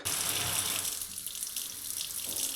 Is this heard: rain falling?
no